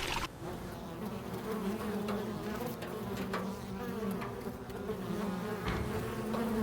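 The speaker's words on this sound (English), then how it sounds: "she didn't see a large bee that flew along behind her." A large bee buzzes steadily in flight, a close, continuous droning hum as a story sound effect, holding level throughout with slight swells and no voices.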